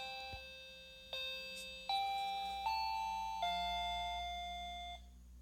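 Bus stop bell in Bus Simulator 3D 2015, a series of clear electronic chime tones stepping down in pitch, each note sustained and slowly fading, loud and close with no talk over it.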